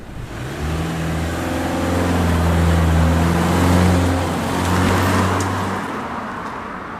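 Stock muffler exhaust of a Subaru Impreza Sport in the Gran Turismo video game, a low, steady engine drone at low speed that swells gently and holds for several seconds before fading out.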